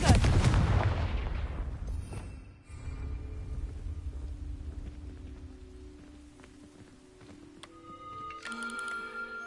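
A Confringo fire spell detonates in Hogwarts Legacy on PS4, a loud, booming blast at the start that rolls off into a decaying rumble, followed by quieter game ambience and small effects.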